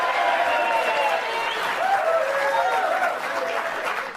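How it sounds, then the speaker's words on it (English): A large crowd cheers and applauds at a live event, a dense, continuous roar of voices and clapping that holds steady at close range before easing off at the end. "Now the crowd cheers."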